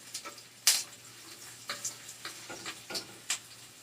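Soft, close crackling and sizzling with scattered pops and scraping stirs, an irregular sputter of food frying in a cast iron pan, no voices.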